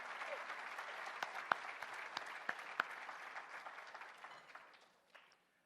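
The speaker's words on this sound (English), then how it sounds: "Now's where you can applaud." Audience applause at the 2021 National Soccer Hall of Fame induction ceremony, a steady round of clapping with a few sharp individual claps that tapers off and ends.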